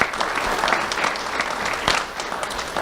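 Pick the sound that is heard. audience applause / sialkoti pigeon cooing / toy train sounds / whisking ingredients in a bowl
audience applause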